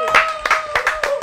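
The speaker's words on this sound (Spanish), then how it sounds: "quiero que producción y todo mi corillo le dé un aplauso a" A studio crew gives guests on a talk show a round of applause. Four or five sharp, evenly spaced claps from a few nearby hands ring out over a faint tonal background.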